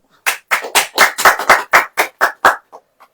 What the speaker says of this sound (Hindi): आनंद आता तो ताली बजाओ,